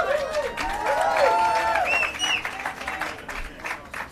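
A crowd at a Walk of Fame ceremony cheers and claps steadily. Excited shrieks and whoops rise above the applause, and voices are heard in the mix.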